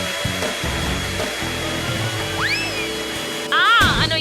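A hair dryer blowing onto popcorn kernels, a steady whooshing roar running beneath lively talk and playful sound effects, swelling louder near the end.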